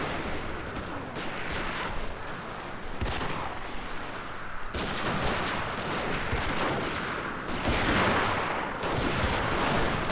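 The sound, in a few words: troops being shot, Shogun 2 video game gunfire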